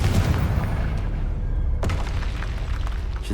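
A Confringo blasting curse goes off in Hogwarts Legacy, a loud continuous rumbling explosion with a sharp secondary crack partway through, dense and close throughout.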